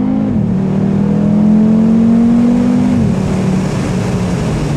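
An Audi RSQ3 with automatic transmission accelerates hard, its engine note rising steadily and then dropping once at a gearshift before climbing again, loud and close from inside the car.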